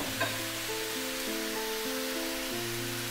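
Sautéed chicken and squash (kalabasa) sizzle steadily in a pan for Filipino pinabet, a continuous close frying hiss with a faint steady hum underneath.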